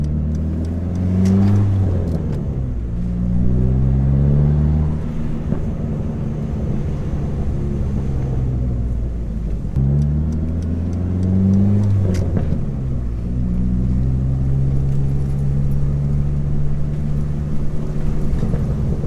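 A Dodge SRT-4 fitted with polyurethane lower control arm bushings drives over bumps. A steady, loud engine drone and road rumble continue from inside the car, with no clunking and no talk.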